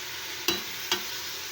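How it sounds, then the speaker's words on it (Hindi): Onions frying in a small cup of oil over a medium flame, a soft steady sizzle broken by two sharp spatula knocks against the pan about half a second apart. "अब हम प्याज को हल्का सा ब्राउन होने देंगे"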